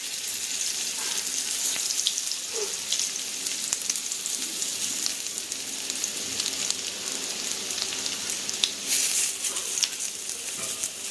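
Teasel gourd pieces frying in a little oil in a hot wok: a steady, close sizzle and crackle that runs unbroken throughout, with no voices.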